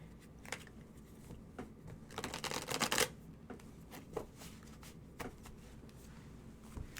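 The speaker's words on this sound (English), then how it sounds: "You shuffle more cards." Quiet riffling and flicking of playing cards, with a brief louder burst of rapid snapping in the middle, against a soft room hiss.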